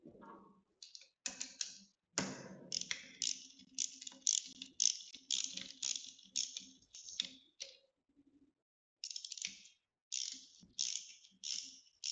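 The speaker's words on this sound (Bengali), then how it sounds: "সেগুলো গুটি দিয়ে খুলতে হবে" A socket wrench ratchets while loosening engine cylinder head nuts, giving rapid runs of close, crisp clicking that repeat in bursts with a short pause partway through.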